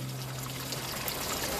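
Fresh drinking water from Mount Pilatus runs from a fountain in Lucerne, a continuous close splashing stream with a steady broadband rush and a faint low hum underneath.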